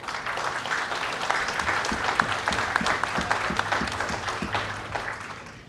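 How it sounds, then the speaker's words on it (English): A conference audience claps steadily after a panel at a Standardbred breeders association conference, a dense, even round of applause held at a constant level with no talking over it. "We have a round of applause for them."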